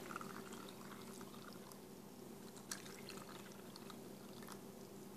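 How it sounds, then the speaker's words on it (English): Cooled water is poured into a tray for two-inch clear ice cubes, making a faint, continuous trickling pour in a quiet room. "we're going to pour it into our tray"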